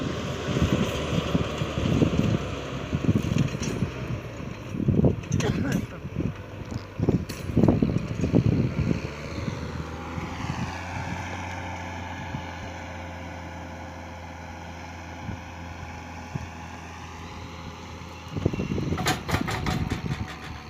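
A small farm tractor engine runs steadily in a rice paddy, a low continuous drone with wind buffeting the microphone and bursts of clattering noise near the start and end.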